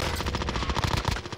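Rapid automatic gunfire from a video game, dense machine-gun bursts with a steady rattling rhythm filling the whole moment, loud and close with no talk over it.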